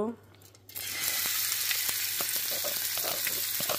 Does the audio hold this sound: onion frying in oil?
yes